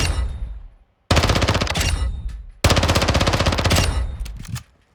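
Two long bursts of automatic SMG fire in the video game Modern Warfare 2, loud and close, the second burst slightly longer, with a brief gap and a short tail at the end.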